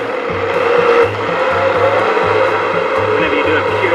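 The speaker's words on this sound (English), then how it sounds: "We're going to transfer that to our Vita Prep blender, start it on a slow speed and build up." A Vita Prep blender purees soft cooked eggplant, starting at low speed and building up. It gives a loud, steady whirring drone throughout, with a low pulsing rumble underneath.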